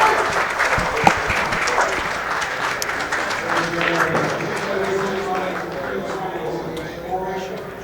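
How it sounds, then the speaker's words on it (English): Spectators at a Derby City straight pool match applaud in a steady patter that fades toward the end, with someone talking over it. "People are clapping"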